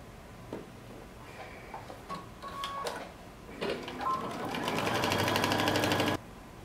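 A sewing machine stitches the neckband of a lace sweater knit dress, running in a loud, steady burst for about two seconds near the end after some scattered clicks and fabric handling.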